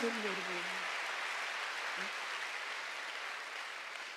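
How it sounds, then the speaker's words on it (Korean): A church congregation at a Sunday worship service breaks into sustained, dense applause that gradually tapers off, with a brief voice audible at the very start beneath it. "박수로 하세요."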